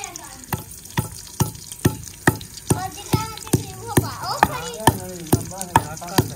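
Spices and ginger garlic paste frying in a pan, a steady sizzle broken by regular scraping strokes of a stirring spoon, close and fairly loud.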